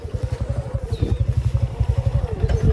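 A motorcycle engine runs close by, loud and steady with a rapid, even thumping pulse throughout.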